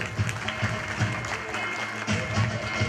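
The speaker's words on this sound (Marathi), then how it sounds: "टाळ्या झाल्या पाहिजे." An audience at a religious discourse gathering in Pimpalgaon claps to honour a performer, a moderate round of scattered, uneven hand claps that goes on steadily throughout.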